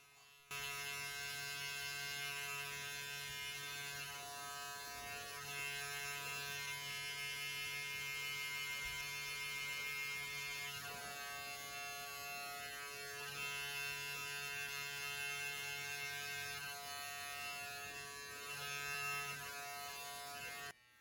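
Electric hair clippers fitted with a 1.5 guard, fully closed, buzz steadily and close up through a self haircut fade, a continuous motor hum with slight dips in pitch as the blades pass over the back of the head.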